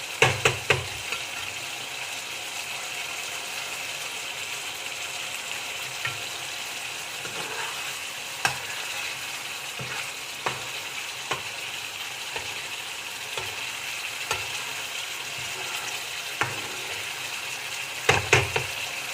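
Pointed gourd and potato pieces frying in a pan as the oil separates at the edges, producing a constant close sizzling hiss broken by occasional sharp clicks and spatters of the utensil.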